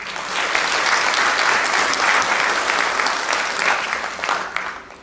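An audience at a general assembly gives sustained, even applause for about five seconds, a dense crowd sound that tapers slightly at the end.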